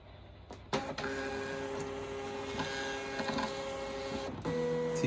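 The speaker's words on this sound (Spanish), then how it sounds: "le vamos a dejar presionado durante 3 segundos para que haga una prueba de impresión" A Zebra ZD220 label printer running a test print: a steady mechanical whir with a sustained tonal hum, starting with a couple of clicks and shifting pitch near the end as the label feeds, close and continuous.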